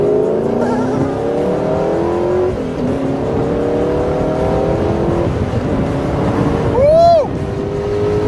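A Spyker C8 sports car accelerates hard on a causeway, its engine note climbing through rising revs, dipping at a shift, then climbing again, loud and close from inside the cabin.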